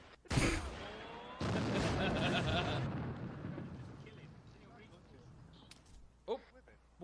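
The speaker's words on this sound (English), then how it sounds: "Vesper, you have an RPG" A rocket launcher shot and blast in a video game: a sudden loud boom, then a second sustained roaring burst that slowly fades, with a couple of sharper bangs near the end.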